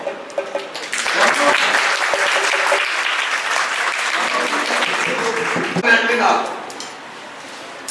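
Applause for the staff at a primary school send-off ceremony, a dense crowd clapping that swells after a second, holds steady for several seconds, then fades, with some talk beneath it.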